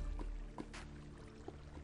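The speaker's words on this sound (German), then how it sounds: "Das ist die Lava. Als wenn Lava so ein blub blub blub blub blub Geräusch macht." Bubbling lava in Minecraft, soft low blubs and pops recurring at irregular intervals over a steady ambient hum, faint and close.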